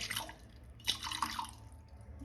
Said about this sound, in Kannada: ಸ್ವಲ್ಪ ನೀರು ಹಾಕೋಬೇಕು